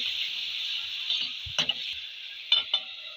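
Ginger and garlic paste being sautéed with chicken liver and bones in a pan: a constant hissing sizzle, with a few scraping stirs of a spoon near the middle and end, close by and without talk.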